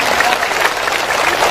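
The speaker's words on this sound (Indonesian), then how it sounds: "Tepuk tangan dulu dong buat Pak Polisi." An audience at an Islamic religious gathering (pengajian) in a village applauds a police officer. The applause is dense, steady and fairly loud across the whole short stretch, with no clear voice on top.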